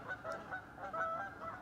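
Several geese honk in a quick, overlapping series, moderately near, their nasal calls continuing without pause and with no voices.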